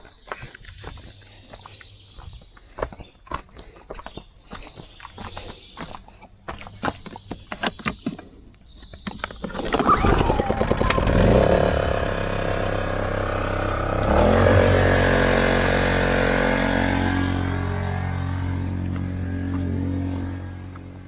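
A roughly 2,000-watt class portable generator in an off-grid workshop is started after some clicks and handling noises, then settles into a loud, steady engine drone that runs continuously to the end.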